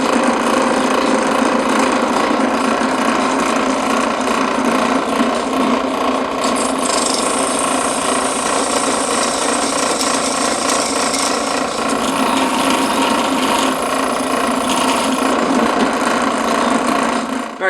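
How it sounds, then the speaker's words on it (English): Drilling a hole for a diesel engine mount on an old rat rod: a steady, loud grinding whine runs unbroken throughout, close up with no talk. "Alright, so I drilled a hole on one side."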